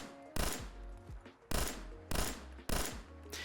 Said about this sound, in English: This weapon does in fact have fully functional burst fire.